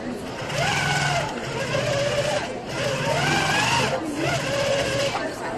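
Powerful sit-down quilting machine doing free-motion quilting at a quilt show, a whirring motor hum that speeds up and slows in waves, heard under someone talking throughout.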